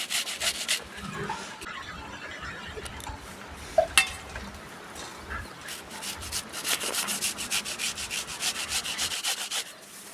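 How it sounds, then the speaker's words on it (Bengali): Raw mango being grated for a mustard kasundi sauce gives steady, rasping scraping strokes throughout, growing into a faster, more regular rhythm toward the end. "এখন সব আমটা গ্রেড করে নিয়েছি"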